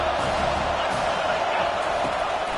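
A dense football stadium crowd at a Miami versus Boston College game roars steadily and loudly, a continuous wall of cheering and noise with an announcer's voice faintly underneath.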